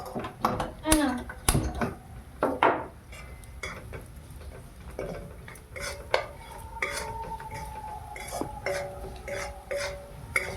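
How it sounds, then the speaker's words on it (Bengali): Cauliflower and carrot curry stirred in a pan with cumin, coriander and chilli powder, sugar, turmeric and salt: utensil scrapes and clinks against the metal pan come in irregular bursts, while a voice talks over the cooking. "নেড়ে চেড়ে জিরে পাউডার ধনে ধনে পাউডার লঙ্কা পাউডার চিনি হলুদ লবণ দিয়ে নেড়ে চেড়ে নেব"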